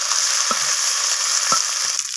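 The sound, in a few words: neem leaves frying in oil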